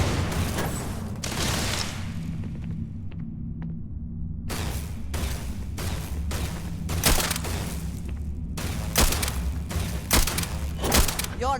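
Grenade explosion and gunfire in the Starfield video game: a series of sharp broadband bursts and booming thuds, several clustered shots in the second half over a low steady game hum, with faint voices at the start.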